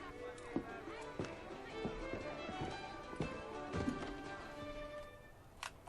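A horse's hooves in the video game Assassin's Creed 3 clip-clop in a steady trotting rhythm, faint and mixed under game ambience and a background voice.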